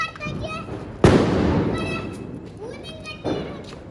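Firecrackers burst during Deepavali celebrations outdoors, one sharp loud bang followed by a rolling echo and a second fainter blast, with children and adults talking and shouting throughout.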